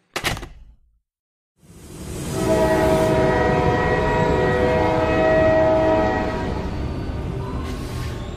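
A train sound effect in a horror audio story: after a brief knock and a moment of silence, a train rumbles in loudly and sounds a long, sustained horn over the steady roar of the carriages.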